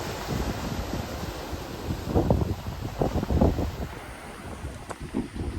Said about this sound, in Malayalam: അതാണ് വിഴിഞ്ഞം പോർട്ട്